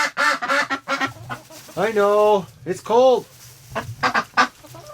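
Several loud honks from nearby waterfowl, a few drawn-out calls with a quieter voice speaking briefly before and after.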